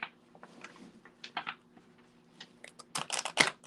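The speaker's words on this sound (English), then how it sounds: "These cards are not shuffling right today." Tarot cards being shuffled by hand, quiet papery flicks and riffles in irregular bursts, sparse at first and denser and louder near the end.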